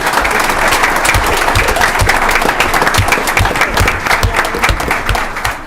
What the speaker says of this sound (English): I'd like everybody to give a round of applause to the students that did a fine job.